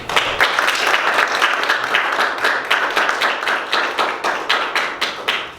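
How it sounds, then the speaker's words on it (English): An audience applauds speakers at the close of a session on ethical investment and human welfare, the clapping loud and close with a strong rhythmic pulse that lasts throughout. "I would say a round of applause for our speakers and also for the audience."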